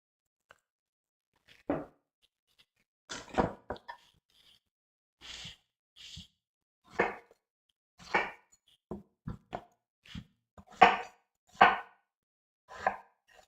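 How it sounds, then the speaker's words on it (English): Knife chopping potatoes into pieces on a board for pâté chinois, about a dozen separate sharp cuts spaced irregularly with short pauses between them, close and clear with no talk. "We're just gonna cut them in pieces so they cook fast."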